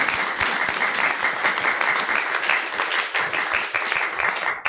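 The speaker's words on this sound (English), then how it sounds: "Give yourself a round of applause." Schoolchildren from elementary, middle and high schools fill a room with sustained applause, a thick, even stream of many hands clapping that carries on unbroken from start to finish at moderate volume.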